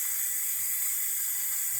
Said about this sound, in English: When it starts coning out of the top, you've got a nice cylinder cone of steam.